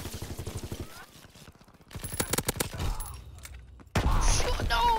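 Submachine gun fire in a WWII video game, bursts of rapid shots mixed with thumps and other battle noise, with a voice talking over parts of it.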